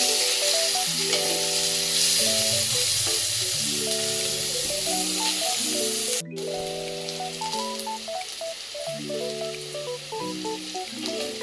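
Onions fry in a pan toward a reddish brown, a steady sizzling hiss that runs throughout under louder, prominent background music, with a brief dropout near the middle.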